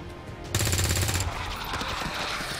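Rapid burst of automatic gunfire from the XCOM 2 video game erupts loud and close, a dense rattling volley lasting under a second before trailing into sustained noisy combat clatter.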